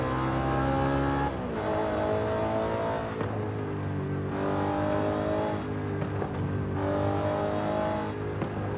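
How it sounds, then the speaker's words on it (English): A car engine in Forza Horizon 5, tuned with a loud, mechanical, throaty intake, revs hard and repeatedly, climbing and dropping in several rising bursts that dominate the clip. "That's a rowdy intake sound."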